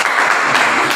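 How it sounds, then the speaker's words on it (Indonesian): Applause for a student in a classroom teacher-training lesson, a steady, dense wash of clapping held at even loudness for about a second, with no talk over it. "beri aplaus untuk Rizka ya"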